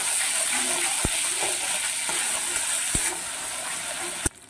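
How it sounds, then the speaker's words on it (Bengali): Spice paste with turmeric, salt and sugar frying in a pan for Bengali dhokar dalna, a loud steady sizzle with a few sharp utensil taps scraping through, close and without voices. "এবারে মশলাটা খুব ভালো করে কষিয়ে নেব"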